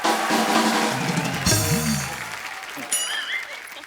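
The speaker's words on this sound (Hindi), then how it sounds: "जोरदार तालियां टाइगर भाई के लिए।" An audience on a TV comedy show breaks into applause that swells and then fades, with voices and music-like tones coming in over it toward the end.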